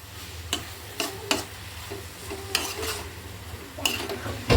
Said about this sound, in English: So I'm just mixing all these things properly.